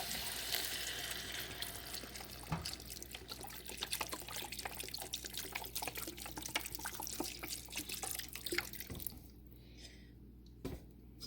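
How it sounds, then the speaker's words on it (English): Vegetable stock is poured into a soup pot in a continuous splashing liquid stream that stops near the end, leaving quiet room tone. "now let's go ahead and add in 32 ounces of this beautiful vegetable stock"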